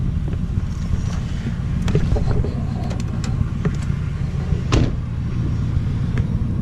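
A Pontiac Trans Am with a resonator delete and cold air intake idles, its engine and exhaust giving a steady, loud low rumble with some wind buffeting on the microphone.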